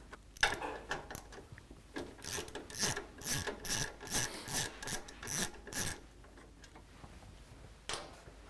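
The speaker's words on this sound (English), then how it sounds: "Take the center bolt out of here for the dash so that I can get to this bolt over here." A ratchet removes dash bolts on a 2010 Harley-Davidson FLTRX, with rapid rhythmic clicking strokes in close bursts, pausing near the end before one more short burst.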